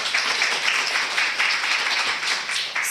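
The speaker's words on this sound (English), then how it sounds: "If we can give them a round of applause." A lecture audience gives a round of applause at an academic retention talk: steady, dense clapping from many hands fills the room evenly and continues throughout without any speech.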